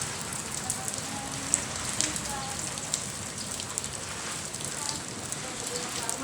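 Sudden rain falls steadily, a dense even hiss of drops on a surface with occasional sharper patters, close and continuous throughout with no talking.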